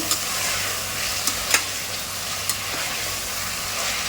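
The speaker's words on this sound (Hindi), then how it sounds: "इसको 1-2 मिनट हम भूनेंगे अच्छे से," Steady sizzling of mutton frying in a hot pot, with a few scraping clicks of a spoon stirring, close and without speech.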